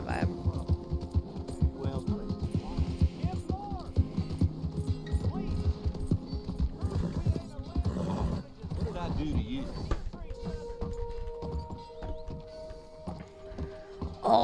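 A horse's hooves clip-clop steadily in Red Dead Redemption 2, a rhythmic trot heard mostly under continuous talking, with tonal game sounds toward the end.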